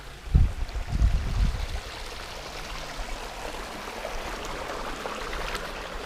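Water flows steadily through a natural canal with a continuous rushing wash, preceded by a few brief thumps early on.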